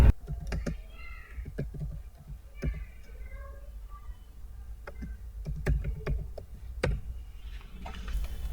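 Computer keyboard typing, with scattered sharp key clicks in short irregular bursts, close and fairly quiet, with a faint voice and room noise in the background.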